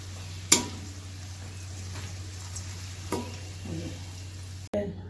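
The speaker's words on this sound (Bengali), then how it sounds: "আলুটা এখানে একটু ভাজা ভাজা করে নিচ্ছি" Potatoes fry in a pan as oil sizzles steadily under a low kitchen hum, with a few sharp clinks of a spatula stirring against the pan.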